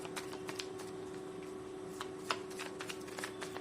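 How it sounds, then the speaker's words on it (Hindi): Tarot cards being shuffled during a pick-a-card reading, a soft steady riffle of card edges with scattered light taps and flicks, close and quiet against a faint constant hum, no talking. "आप अगेन ये शफलिंग स्किप कर सकते"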